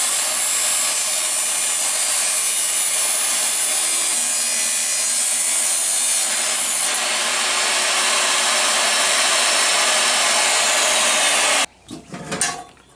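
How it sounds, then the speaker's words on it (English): A table saw cuts scrap yard metal for a homemade sword, a loud, steady, rasping whine that runs continuously for several seconds before stopping abruptly, leaving a few faint clatters after. "after we use the table saw to cut these off"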